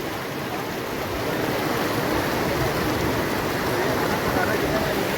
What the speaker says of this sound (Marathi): इकडे लय मोठा दिसत आहे धबधबा